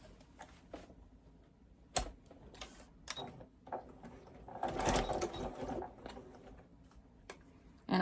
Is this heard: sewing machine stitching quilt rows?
yes